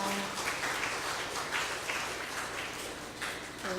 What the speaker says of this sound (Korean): 서로 위해서 박수 쳐주시면 좋겠습니다